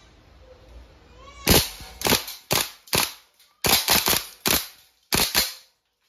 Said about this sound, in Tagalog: Okay, full auto. Full auto, firing.